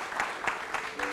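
A brief burst of applause from an audience at a chieftaincy gathering, a few distinct claps repeating evenly against a faint murmur of voices.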